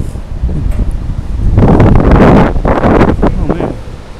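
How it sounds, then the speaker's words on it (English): Strong gusty wind buffets the microphone on an Iceland hillside, a loud roaring rush that swells in the middle and surges in bursts, with a voice faintly heard under it. "it's windy and so strong"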